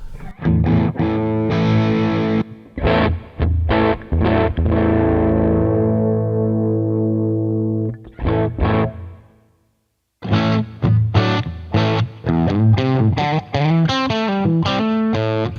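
A distorted electric guitar plays blues-style chords and riffs through a HeadRush pedalboard amp model, ringing out and sustaining, with a brief pause before a busier, choppier passage.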